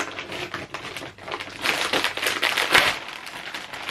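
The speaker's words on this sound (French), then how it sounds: "je vais l'ouvrir avec mon petit cutter" A small utility cutter slices open a vacuum-sealed plastic food package, giving a run of close crackling, crinkling and scraping noises that grow busier and louder toward the end.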